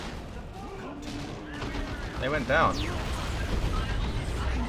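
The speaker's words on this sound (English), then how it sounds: "Seemed like some kind of explosion." Gunfire and a blast crackle through a battle in Dawn of War 2: Retribution, a burst of shots swelling mid-way over a rumbling background while a voice talks briefly.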